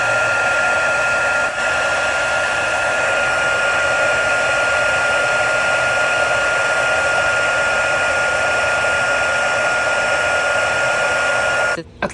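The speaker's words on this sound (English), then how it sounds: "And then I'm going to heat set these." A heat tool blowing steadily as it melts embossing powder on stamped paper, a loud constant whirring hiss with a faint whine that runs unbroken and cuts off at the end.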